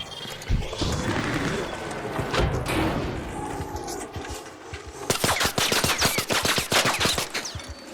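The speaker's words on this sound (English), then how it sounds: "the kinetic crackle of gunfire" Gunfire in the ARC Raiders video game, scattered shots and thuds amid chaotic background noise giving way to a sustained rapid automatic burst, loud and close, with no speech.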